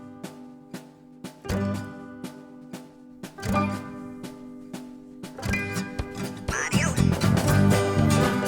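Five wet ducks and a drake quack over and over in a pen beside goats. The calls start as separate loud quacks and build into a dense, overlapping chorus near the end.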